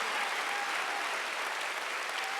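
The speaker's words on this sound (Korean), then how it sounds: "박수하세요." A church congregation at a Wednesday worship service claps together in steady, dense applause, a continuous even patter with no voices standing out.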